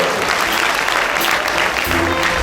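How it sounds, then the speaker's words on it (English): Sustained applause from the audience at a university pharmacy oath-taking and induction ceremony, honouring the keynote speaker; dense, steady clapping filling the hall at an even level throughout. "another round of applause for our keynote address speaker, Dr. Chibuzor"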